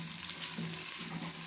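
Chopped onions fry in hot oil with meat for achar gosht gravy, giving a steady, close sizzle with faint stirring.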